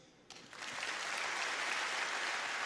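A stand-up comedy gala crowd breaks into applause after a quiet start, swelling quickly into a broad, sustained wash of clapping that holds steady and fairly loud to the end.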